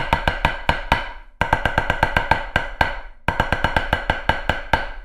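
Three short takes of the same drum rhythm, each played with slightly different timing, come as crisp, close hits in quick groups, separated by two brief gaps, with no voices.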